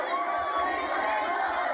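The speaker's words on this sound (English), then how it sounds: "Police on Bowen Street struggling to hold back the crowd and the cars." Protest crowd on Bowen Street pressing against a police line, a dense steady roar of many voices and shuffling that stays loud and close throughout, with no single speaker standing out.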